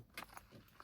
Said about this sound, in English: Those are my keys, y'all, if y'all heard that noise.